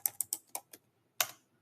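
Five quick keystrokes on a computer keyboard, then a brief pause and one last louder key press, close and clear with no talking.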